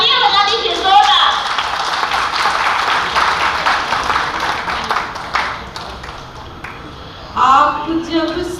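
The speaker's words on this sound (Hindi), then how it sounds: "सर एक बार तालियां बजा दीजिए जोरदार।" A burst of audience clapping at a Hindi poetry recital fills most of the stretch, dense and steady, then fades as a voice resumes near the end.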